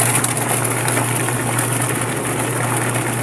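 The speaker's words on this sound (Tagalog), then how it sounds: "Napakagandang tumakbo ng washing machine na ito." An American Home single tub washing machine spinning, a steady loud motor hum with a strong low drone and broad whirring noise, running continuously without pause.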